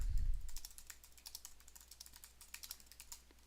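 Rapid keyboard typing on a computer, a steady run of light clicking keystrokes close to the microphone, starting with a brief low thump and continuing alone without any talk.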